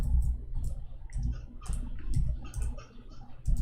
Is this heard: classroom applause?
no